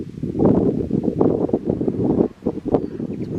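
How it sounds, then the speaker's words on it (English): Steady gusty wind buffeting the microphone on the Bibbulmun Track hiking trail, a continuous low roar that swells and dips, briefly easing near the end. "It's windy."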